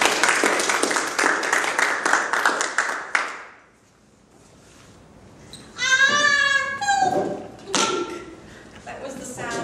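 Rapid rhythmic scraping of snow, a quick run of close, crisp strokes, is followed by a pause and then a voice that seems to imitate the sound with squeaky vocal noises.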